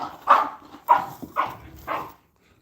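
A dog at a kennel barks four times in a playful, evenly spaced sequence, close and fairly loud, each bark short and sharp before falling quiet.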